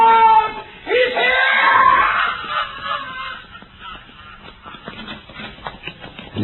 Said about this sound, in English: It seemed like they were all released by that scream.